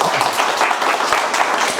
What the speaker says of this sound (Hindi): एक बार जोरदार ताली बजा दो भैया सब